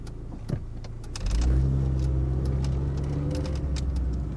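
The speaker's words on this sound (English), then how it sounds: "Gearbox downshifts quite nicely on this one actually." Old Honda/Rover car downshifting on the move: engine noise rises sharply after about a second into a loud, steady mid-pitched drone with faint knocks, no voices.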